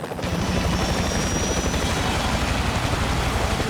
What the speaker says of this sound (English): the boss of this level is a suited-up attack helicopter